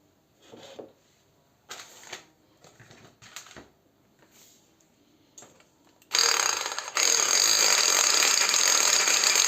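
An electric mixer whips cream for a Japanese mochi dessert, first in a few short on-off bursts, then in a loud, steady whir for the last few seconds.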